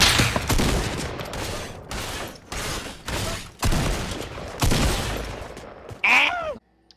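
Shotgun gunfire in a team shooter video game: a string of loud, sharp blasts repeats every second or so, each with a short ringing tail, ending in a final burst before sudden silence.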